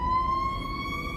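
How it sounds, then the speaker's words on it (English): Fire truck siren sounding nearby, a loud steady wailing tone that holds for the whole short stretch over low engine rumble. "Oh, that's a fire truck."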